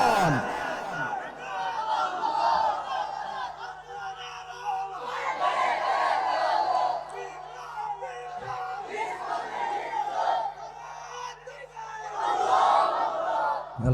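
A large crowd at an Islamic movement rally in Cox's Bazar chants a slogan in loud, rhythmic waves, the massed voices rising and falling in repeated bursts.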